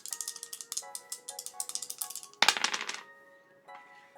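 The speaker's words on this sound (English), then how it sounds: "So I roll 2 dice after that." Dice rolling in Super Mario Advance: a quick run of rattling clicks laid over bright electronic chimes, a louder burst partway through, then the tinkling fades out alone.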